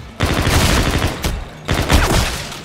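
Automatic weapon fire in Call of Duty: Infinite Warfare zombies mode, two loud sustained bursts of rapid shots close up, separated by a brief pause, with no talking over them.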